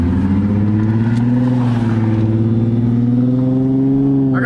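Infiniti G35 coupe engine running steadily while driving, a loud continuous mid-low drone with slowly rising and falling pitch, close and alone with no talk over it; the car has an intake air leak and P0011/P0021 cam timing codes.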